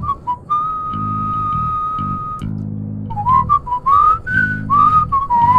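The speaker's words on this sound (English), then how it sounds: "Oh, I love that whistle." Sponge monster from My Singing Monsters on Cold Island whistles a clear, loud melodic tune of sustained and rising notes over a steady low rhythmic musical backing.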